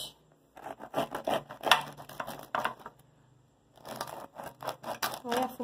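A knife cuts through a Brazilian northeastern tapioca cake in short scraping, crunching strokes with a pause between two bursts, close and fairly quiet, mixed with someone speaking.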